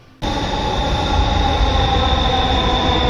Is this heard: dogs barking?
no